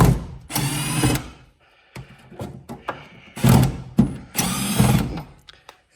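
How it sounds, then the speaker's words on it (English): A power drill whirs in short loud bursts, pausing between them, as it backs screws out of the top of a John Deere 30 or 40 Series tractor cab, with clicks and handling noise in the gaps. "take out these screws in the top, all the way around"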